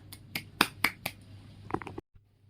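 A classroom group claps about five sharp separate claps in an uneven rhythm, then a few quicker ones, before it stops abruptly into near silence. The claps are fairly close and nobody speaks.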